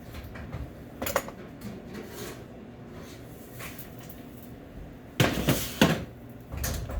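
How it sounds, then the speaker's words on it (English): Stuffed delicata squash pulled from a home kitchen oven: a few sharp metallic clanks of the door and pan, separated by a quiet stretch, with louder knocks toward the end. "I'm going to just pull my stuff out of the oven here"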